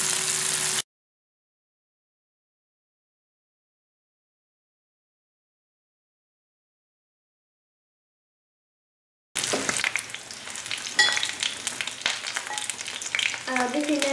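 Tuna and shrimp spring rolls (nems) fry in hot oil with a steady crackling sizzle, a brief burst at the start, then a long silent gap before the dense bubbling frying resumes and continues to the end.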